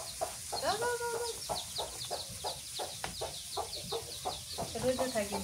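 Village chickens clucking and calling in quick repeated bursts after being released outdoors, close by and fairly loud, with a person talking over them at times.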